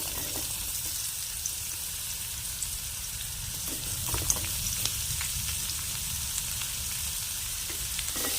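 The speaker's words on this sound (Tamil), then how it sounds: "இப்போ நம்ம கட் பண்ணி வச்சிருக்கிற உருளைக்கிழங்கு இது கூட ஆட் பண்ணிக்கலாம்." Cut potatoes tossed into a pan of softened onions fry with a steady, dense sizzle at close range, broken by a few faint stirring scrapes and no speech.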